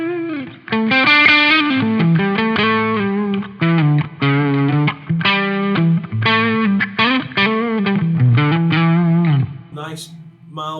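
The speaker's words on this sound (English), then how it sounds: "Nice mild breakup crunch tone." An electric guitar played through a pedal board with a mild-breakup crunch tone strums chords and short riffs. Strong, ringing, sustained hits are separated by brief gaps and end in a fading final note.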